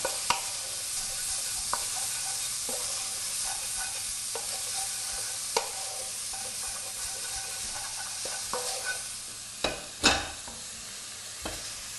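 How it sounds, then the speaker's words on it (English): Small pieces of bacon crisping in a pan over high heat, a constant quiet sizzle broken by occasional stirring clacks and a couple of louder scrapes near the end, close and without speech. "So what you want to do is crisp up this bacon really nicely. Just have it on a high heat, crisp it all up."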